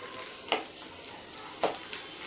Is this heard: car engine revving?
no